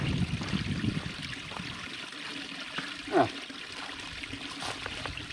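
Water trickling from a small spring beside a hiking trail, a soft steady outdoor wash of running water throughout with a brief louder splash near the middle.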